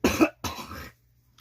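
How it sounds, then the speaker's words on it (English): One person clears their throat at close range with two rough bursts: a short harsh one, then a longer rasping one, followed by quiet. "Sorry, I had to clear my throat."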